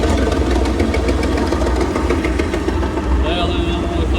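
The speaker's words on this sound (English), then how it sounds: "see if we can get a bit of video with the chipper. I think it's a trailed one this time" On a farm, a trailed wood chipper's engine runs loudly and continuously with a rough mechanical rumble and clatter, while a person talks over it close by.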